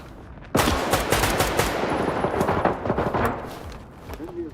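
A loud burst of automatic gunfire in a video game erupts suddenly, then continues as rapid, dense shots that gradually thin out toward the end with background game noise.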